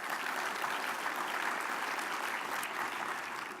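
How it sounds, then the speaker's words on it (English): A large conference audience at a transportation summit opening session claps for elected transit board members, a dense, sustained wash of applause that holds steady throughout without any speech. "Let's give them a round of applause"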